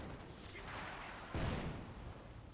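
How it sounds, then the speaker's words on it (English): Artillery barrage in a competitive real-time strategy match, a muffled rumble of distant fire building into a heavier thudding impact about halfway through, with a sharp boom and rolling low-end decay. "And the next barrage coming in."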